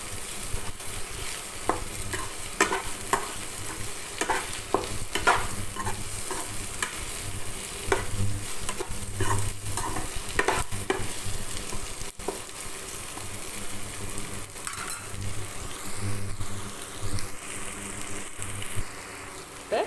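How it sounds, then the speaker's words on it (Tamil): Okra and masala sautéing in a pan for okra thokku, with a steady close sizzle and repeated stirring scrapes throughout and no talking. "இருந்தாலும் இந்த மசாலா எல்லாம் ஏறணுங்கிறதுக்காக கொஞ்சம் நேரம் அப்படியே இது கூடயே வதங்கட்டும்"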